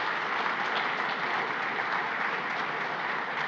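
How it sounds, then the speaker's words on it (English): A conference audience at an international World War II history event gives a steady, continuous round of applause, a dense even wash of many hands clapping with no voices on top. "So let's give them a warm round of applause for their support."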